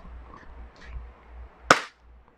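KJW KP17 airsoft gas blowback pistol firing a single sharp crack over a chronograph, one short loud snap in otherwise quiet surroundings.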